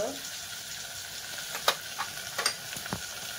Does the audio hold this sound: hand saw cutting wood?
no